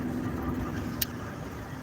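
Pickup truck with 327,000 miles climbing a mountain road: a steady engine drone carries throughout, close and even, with a brief click near the middle and no voices.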